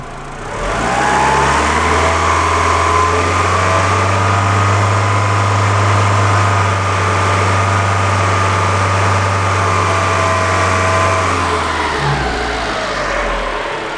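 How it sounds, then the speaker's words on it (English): A car engine with a suspect catalytic converter revs up and holds at a high, steady drone for several seconds, then drops back toward idle; loud and close, no voices. "If I increase the speed of the engine,"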